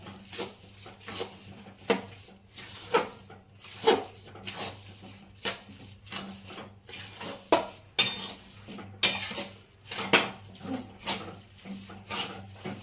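Sticky gundar pak mixture stirred in a pan, with a steady run of scraping and knocking strokes from the spoon against the metal and a soft sizzle underneath, the strokes sometimes louder and sharper.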